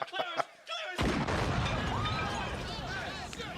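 Car explosion from the 1987 film RoboCop: a sudden loud blast erupts after a brief stretch of talk, then a sustained roaring rumble with crackling debris and rising whistling tones continues to the end.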